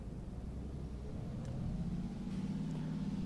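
A Solaris city bus in the OMSI 2 simulator pulls away, its low engine rumble building steadily as it moves off.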